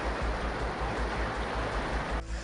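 Rainwater pours and rushes into a street gutter after a heavy downpour, a steady, loud broadband wash of flowing water that continues throughout without any talking.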